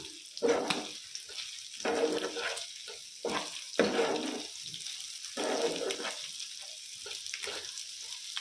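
Chicken fry sizzling in a pan, bursts of frying hiss rising and falling as it is stirred, with gaps of quieter crackle between them, close and moderately loud.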